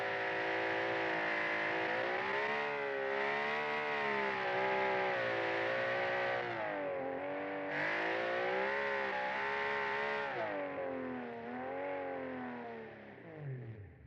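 A race truck engine in a racing video game revs and climbs through gears, harmonic pitch rising and falling in repeated sweeps, loud and continuous with no talk.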